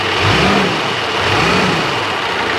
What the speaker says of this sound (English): Now I'll just rev it up a little bit.